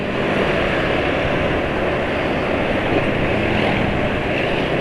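A motorcycle engine running on Total 4T 300 JAS oil, heard as a dense, steady, loud drone with no clear rhythm changes and no voices over it.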